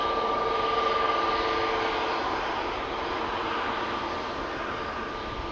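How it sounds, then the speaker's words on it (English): An Air Malta A320neo jet departs Amsterdam Schiphol Airport, its engines producing a steady, loud, broadband roar with a thin whine, holding constant and then easing slightly as it moves away. "KM Malta A320neo,"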